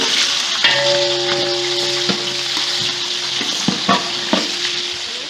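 A loud, steady sizzle of onion and green chili frying in hot oil, with occasional scrapes and taps of a utensil stirring in the pan.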